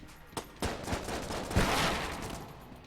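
Slow, widely spaced gunshots from a low-firing-rate weapon in the video game Enter the Gungeon, several punchy blasts followed by a dense, rumbling burst of game effects, moderately loud, no talking.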